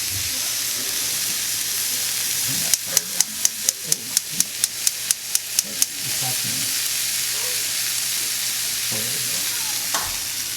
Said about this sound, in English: You're sauteing those onions, right?